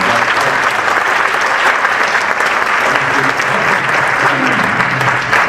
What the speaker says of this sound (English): So another round of applause for all them out there.